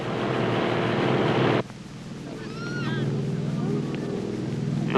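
A cargo plane engine over a jungle drop zone in Laos gives a loud, roaring drone that cuts abruptly to a lower, steady hum, with faint chirping sounds above it.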